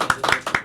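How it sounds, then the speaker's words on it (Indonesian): A small podcast studio group claps hands in a quick run of about five or six sharp, close claps. "NG William, tepuk tangan teman-teman semua ya."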